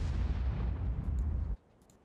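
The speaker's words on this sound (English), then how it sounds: "Everyone is just shooting high explosive ammunition." Tank cannons firing high-explosive shells in the World of Tanks video game make a loud, sustained booming rumble for about a second and a half, which then cuts off into quiet.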